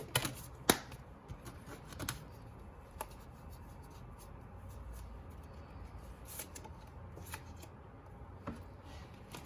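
Affirmation cards for a tarot reading are shuffled by hand in a quiet room, giving soft papery riffles and shuffles with a few sharp card snaps and taps, close and fairly faint, with no talking.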